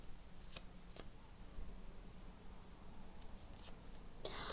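Tarot cards being shuffled close by, several crisp riffling bursts separated by pauses, quiet and alone.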